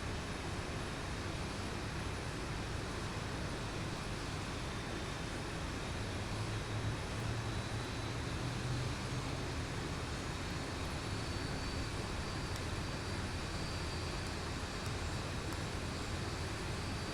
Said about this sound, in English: I love the sound and the animation of these engines firing up.